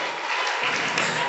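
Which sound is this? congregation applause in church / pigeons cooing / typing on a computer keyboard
congregation applause in church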